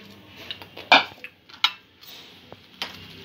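A knife slicing a carrot into thin strips on a board, giving a few sharp chopping taps and scraping clicks spaced irregularly, close and fairly quiet with no voices.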